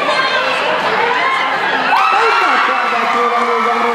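A large crowd at a Brazilian Crioulo rodeo's vaca parada competition cheers and shouts in a dense, sustained roar, with an amplified announcer's voice carrying over the noise.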